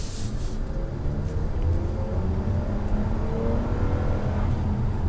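A 2019 Toyota Camry XSE in sport mode accelerates with a steady, continuous engine drone and road noise, heard from inside the cabin at moderate level without talk.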